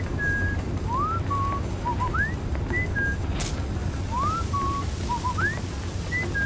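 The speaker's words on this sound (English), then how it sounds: "you can whistle at people in this game and it's a great way to lure enemies into the darkness" Sam Fisher's whistle in the Splinter Cell Chaos Theory video game, a repeating melodic tune of short rising and held notes played twice, clear and fairly loud over a low ambient game drone.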